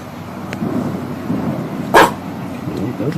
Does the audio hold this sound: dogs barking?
yes